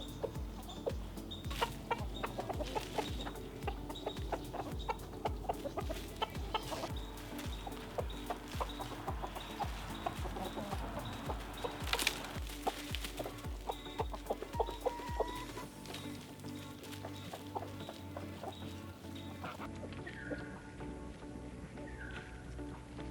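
Backyard chickens clucking in their chicken run: a steady chorus of soft, repetitive clucks and occasional calls from several birds, close and continuous throughout, with no talk.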